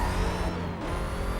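A car in Need for Speed: Most Wanted (2005, PS2) flips over, a loud, dense burst of engine roar and grinding scrape that fills the whole short moment.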